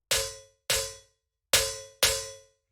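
Four sharp metallic snare hits with a ringing tone, each decaying quickly; two close together, a pause, then two more.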